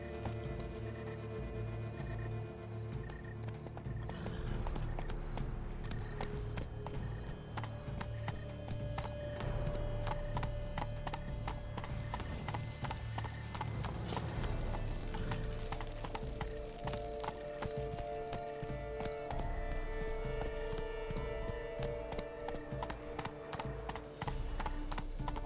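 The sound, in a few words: horse hooves on horseback, from video game The Witcher 3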